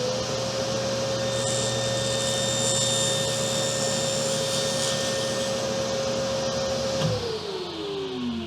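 A saw blade cuts through quarter-inch wood as a steady, loud motor whine with a grinding rasp that runs for about seven seconds, then pitches down as the blade spins to a stop.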